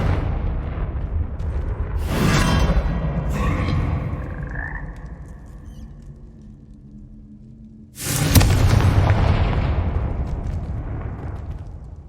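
Confringo explosive spell cast in the video game Hogwarts Legacy: two loud crackling bursts, one early and a second sharper blast about two-thirds through, with rumbling decay between them.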